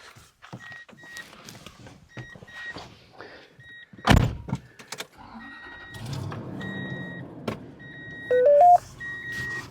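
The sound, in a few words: truck starting up, door closing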